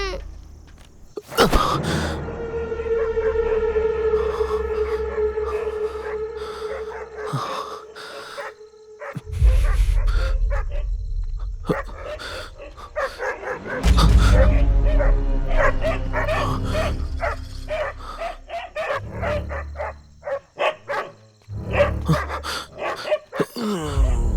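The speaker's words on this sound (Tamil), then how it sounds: "இந்த நாய்ங்க" Dogs in a village setting bark, yelp and whimper at close range in uneven bursts across the stretch, with brief pauses and a sustained whining tone early on, loud and with little talk.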